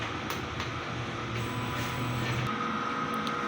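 A DTF printer runs a nozzle test, giving a steady mechanical whir and hum with a faint periodic tick, held at an even level throughout.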